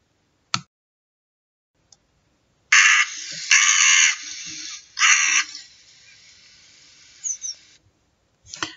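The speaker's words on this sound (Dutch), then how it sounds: "Dit geluid herken je gelijk. Kra, kra. Dit is een kraai." A crow calls in winter with a few harsh, loud caws, separate bursts with pauses between them against an otherwise quiet background, plus a couple of brief clicks at the start and end.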